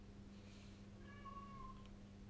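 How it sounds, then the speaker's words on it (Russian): A house cat lets out a faint, drawn-out meow over a low steady hum in a quiet room, heard alone without speech. "Даже кот мой замяукал."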